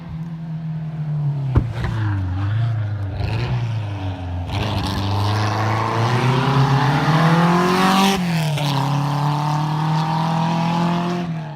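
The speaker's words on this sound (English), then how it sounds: "Still cool cars driving up." Classic cars on a rally route drive up one after another, engines droning steadily and swelling as they pass close, with a sharp rise in revs near the end and no talk over them.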